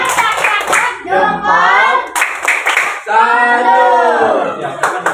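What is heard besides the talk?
class doing 'tepuk salut' clapping chant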